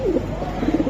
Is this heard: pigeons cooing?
yes